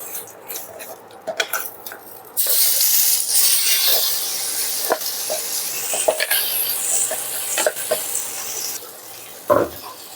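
Ground masala for vada curry hitting hot oil with bay leaf, a loud bright hiss that bursts up and settles into steady sizzling, broken by occasional stirring scrapes.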